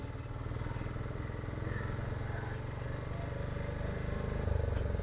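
A Piaggio Ape auto rickshaw engine runs in top gear, a steady low, rapidly pulsing putter that holds fairly even and swells slightly near the end, heard up close.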